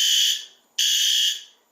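A fire alarm horn on a Notifier MS-9200UDLS home fire system under test gives two loud, piercing tonal blasts, each held and then fading, with a brief gap between, starting a third at the end.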